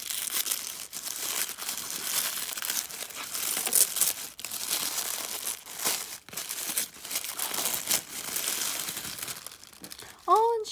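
Yellow gift wrapping paper crinkles and tears continuously up close as a present is unwrapped, steady rustling with brief pauses and a short vocal sound near the end.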